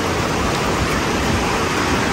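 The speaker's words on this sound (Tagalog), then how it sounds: "So, umuulan po today." Steady broadband hiss of rain falling during a dark, overcast day at a townhouse under construction, continuous and fairly loud with no talk over it.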